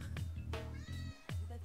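A cat meows in Persona 3 Portable, three short, fairly close mews in quick succession over a faint musical background.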